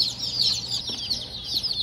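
Bantam and crested chicks peep in a constant, overlapping high-pitched chorus at a feed store, close and lively, with no talking.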